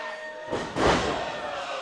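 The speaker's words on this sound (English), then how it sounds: "he was able to switch his hips and get control of Lee Johnson's head and drive it into the mat" A wrestler's head driven into the mat by a face buster during an Action Wrestling match, one heavy thud landing over a low arena hum, followed by a fading rumble.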